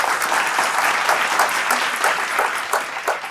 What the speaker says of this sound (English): Louder, thunderous applause.